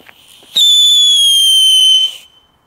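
A ground firework from a LESLI family assortment lets out one steady, loud whistle. It rises sharply and holds for about a second and a half, then cuts off, with faint crackles before it.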